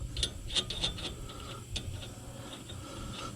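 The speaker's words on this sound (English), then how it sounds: "Spin your top nut off, spin your second nut off." Metal nuts are spun off a threaded stud by hand, making quick light ticking and rubbing clicks close up, scattered through a short stretch with no talking.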